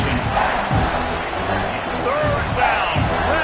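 Football stadium crowd roaring for the home defense as it tries to make a red-zone stop, a loud continuous wash of cheering and shouting with a few sharp thuds, no clear speech.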